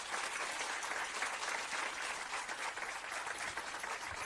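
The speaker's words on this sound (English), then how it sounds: "Can we give them a round of applause" Outdoor crowd at a ribbon-cutting for a civil rights house applauds in a steady, even wash of clapping, fairly distant and soft.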